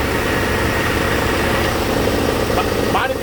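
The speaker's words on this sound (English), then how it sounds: "It's a very jiggly engine." A Dodge D150 pickup engine idles in a yard with a steady, shaky rumble, loud and close throughout, with a few faint noises near the end.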